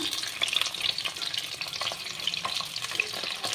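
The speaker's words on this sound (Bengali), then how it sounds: "আমি কড়াইতে তেল দিয়ে দিয়েছি তেলের ভেতরে ফুলকপিগুলোকে ছেড়ে দিলাম" Steady, close sizzling and crackling of cauliflower frying in hot oil in a wok, a continuous bright hiss with scattered pops and no voices.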